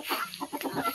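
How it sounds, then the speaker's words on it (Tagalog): Chickens cluck in short, soft bursts nearby during a heavy rain, with faint background patter. "Atong manok"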